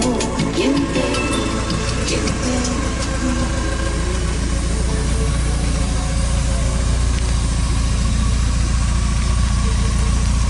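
At night a Porsche 944 engine idles with a steady low rumble that holds evenly throughout, with some light clicks and rattles early on.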